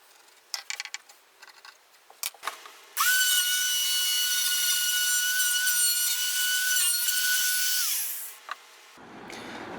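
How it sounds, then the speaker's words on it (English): A power tool mortises out a recess in wood for a clock movement on a handmade wall clock, a loud, steady high whine for about five seconds after scattered clicks and handling taps, then winding down. "I'm going to mortise out where the clock movement goes."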